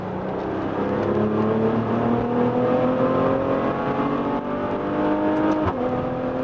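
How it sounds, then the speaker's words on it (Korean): A Maserati Levante's exhaust note rises steadily under acceleration, a loud, close engine drone climbing in pitch through the gears with a brief shift break near the end, no voices over it. "가속을 할 때 한 4000rpm 넘어가면은 그 배기음이 바뀌면서 좀 더 과격하게 내주는 그런 느낌이 있습니다"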